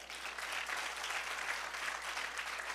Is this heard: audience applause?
yes